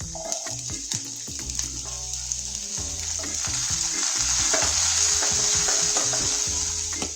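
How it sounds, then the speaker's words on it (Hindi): Garlic and green peas sauté in a pan, a bright sizzling hiss that swells louder partway through, with spatula scrapes and stirring knocks close by and no talking. "गार्लिक, अच्छी तरीके से सौते करेंगे। अब इसमें डालने वाले हरी मटर,"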